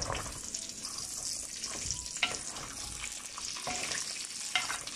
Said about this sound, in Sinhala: මිරිසුත් දැන් තෙලේ මේ විදිහට තැම්බෙනවා